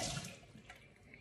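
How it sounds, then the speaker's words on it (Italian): A container is rinsed with a splash of water while cooking, a brief sloshing splash that fades into faint dripping, close and fairly quiet. "Puliamo bene il contenitore con un goccio di acqua"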